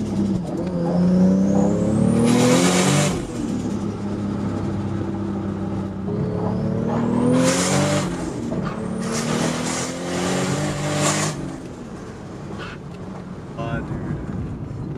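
A Toyota Supra MKIV tuned for high boost pulls hard in repeated bursts, its engine note rising and swelling with loud surges and wind rush inside the car, mixed with excited talk from occupants.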